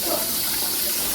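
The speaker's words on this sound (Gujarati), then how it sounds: "એકદા ડોલ ભરી નાખું ને પછી પાણી પીવું" Tap water pours steadily into a bucket, a broad continuous rush close by with no voices over it.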